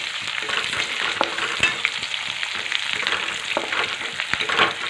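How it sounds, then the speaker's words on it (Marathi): Curry leaves tossed into onion browning in oil in a pan for matki rice, a loud close sizzle with sharp crackles and spoon-stirring scrapes, no talk. "त्यामध्ये आपल्याला जे घेतलेले कडीपत्तीची पानं आहेत ना ते घालून घ्यायचे आहे"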